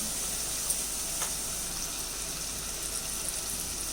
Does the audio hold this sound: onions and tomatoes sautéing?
yes